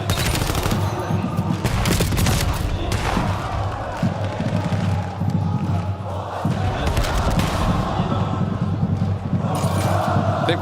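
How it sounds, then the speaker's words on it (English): Dense rapid gunfire during a Call of Duty: Black Ops 7 esports match, bursts and shots overlapping continuously for the whole stretch at close range, with excited commentary voices underneath. "And wow, a lot of shots just thrown."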